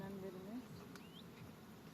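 Honey bees buzz around hives at an apiary, a faint, soft drone with a few individual bees whining past close by.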